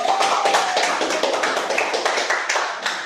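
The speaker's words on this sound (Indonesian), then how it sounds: "Tepuk tangan boleh" Pupils in a classroom break into applause, a dense run of overlapping claps from many hands filling the room at moderate loudness.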